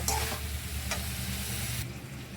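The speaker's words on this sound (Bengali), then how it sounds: "মাংসটাকে ভালো করে দিয়ে ভেজে নিতে হবে" Chicken meat frying and sizzling in a pan while being stirred, a steady hiss with a few scraping strokes, close and moderately loud with no voices.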